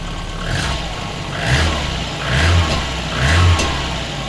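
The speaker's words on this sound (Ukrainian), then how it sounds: "Чи навіть чуєте прогрівочні обороти ще високі" A cold VAZ 21010 car engine idles at fast, elevated warm-up revs, a steady mid-pitched hum with low throbbing pulses recurring about once a second.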